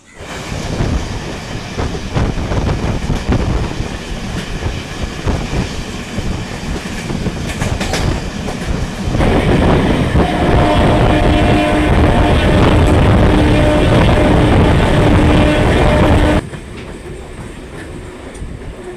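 A train rumbles loudly along the rails at Joychandi Pahar railway junction, with rhythmic clattering and metallic clanks, growing heavier midway before easing to a quieter rolling hum.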